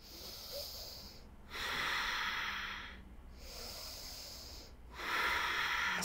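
Slow, deep breathing during yoga practice, with long airy inhales and exhales alternating in an even rhythm, close and breathy with no one speaking.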